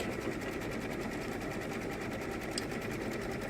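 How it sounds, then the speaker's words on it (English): A sewing machine runs steadily and continuously at a fast, even stitching rhythm, heard faintly from a short distance with no pauses. "And you better get your sewing machine out, Karina,"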